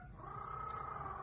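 A parrot imitates a cat, a short, nasal, sustained meow-like tone heard close up and alone.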